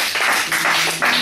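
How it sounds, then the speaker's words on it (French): A congregation applauding at a Christian church meeting, with dense, broadband clapping that swells in several waves and stays loud and close throughout, with no speech over it. "Applaudissez pour la gloire de Dieu."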